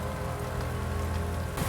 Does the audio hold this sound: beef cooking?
no